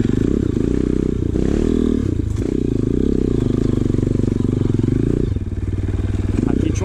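A dirt bike engine roars loud and close on a steep hill-climb challenge at the 13th Trilhão de Santo Antônio trail ride in Fortuna de Minas, Brazil, its rough buzzing drone rising and dipping with throttle changes throughout.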